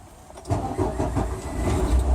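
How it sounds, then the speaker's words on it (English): A truck's diesel engine cranks and catches, then settles into a loud, steady low rumble close by, with no talk over it. "Then I'm going to press the clutch and start my engine"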